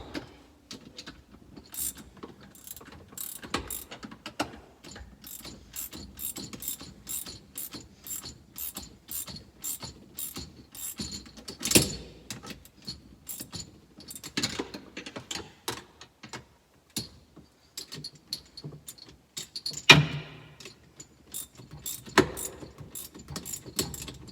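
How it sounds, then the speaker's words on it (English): A 1/2-inch socket ratchet and a backer wrench tighten hydraulic fittings while a remote hydraulic kit is fitted to a Kubota cab tractor. The ratchet pawl clicks in rapid bursts, with louder knocks of metal now and then. "A 1/2-inch socket and a backer wrench finishes tightening these up."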